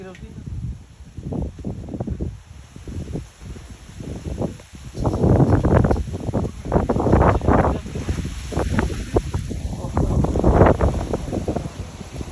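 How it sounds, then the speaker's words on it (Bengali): Strong gusts in a home garden in Germany buffet the microphone in loud, roaring bursts that rise and fall, with people talking underneath. "আজকে অতিরিক্ত বাতাস, সেই জন্য গ্রিলের আগুন ধরানো একটু মুশকিল হচ্ছে"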